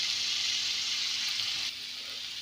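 Boiled potatoes sizzling in hot oil with chili powder stirred in for an egg potato curry, a steady dense hiss that drops slightly in level near the end, close and without talk.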